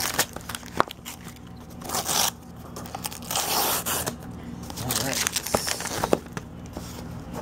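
Superhero-printed wrapping paper is torn and crumpled off a gift box, giving close, loud crinkling and ripping in irregular bursts with a voice speaking now and then.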